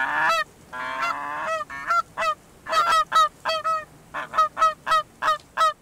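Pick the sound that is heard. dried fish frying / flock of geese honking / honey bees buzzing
flock of geese honking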